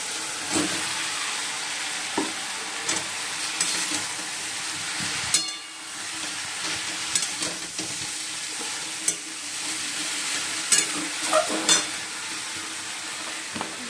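Cauliflower and potato fry in a spiced masala in a pan, giving a steady close sizzle broken by scraping stirs and occasional sharp clinks of a utensil against the pan.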